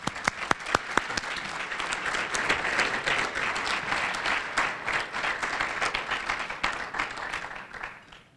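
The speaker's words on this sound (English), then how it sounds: "a big round of applause for Sheila" Sustained audience applause at a 2018 Cardinal Challenge luncheon, a dense room of clapping that starts with a few sharp individual claps, swells into a steady roar for several seconds, then tapers away at the end.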